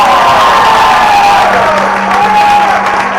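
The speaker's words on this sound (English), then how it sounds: "Give them a great big round of applause." A graduation audience cheers and whoops loudly, with some applause mixed into a dense crowd roar at close range.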